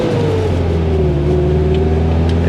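A 1989 Nissan Hardbody Z24 truck on the road, its engine droning steadily as it drives, with the pitch sliding down once as a gear changes. No one talks.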